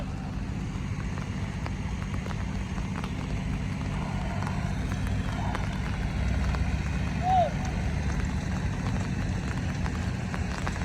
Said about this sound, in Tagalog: Umuulan na at sana wag naman lumakas ang ulan